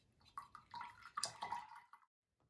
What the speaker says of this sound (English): you can give your medium brush a good wash